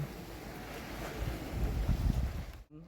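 Wind buffeting the microphone over a broad wash of sea waves at Hua Hin, a steady outdoor roar with low gusty rumbles, cutting off abruptly at the end.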